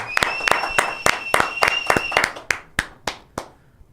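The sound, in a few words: audience applause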